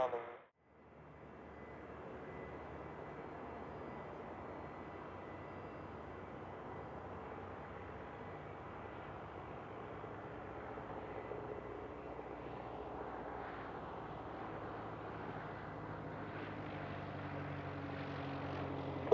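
Private jet aircraft at Van Nuys Airport, a steady distant engine roar that swells gradually over about twenty seconds, with faint radio chatter underneath.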